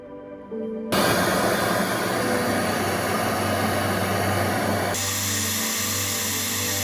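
A torch hisses steadily as it solders the check valve on a homemade cooling machine's copper tubing, a loud continuous rush that starts after a brief quieter lead-in and eases slightly near the end.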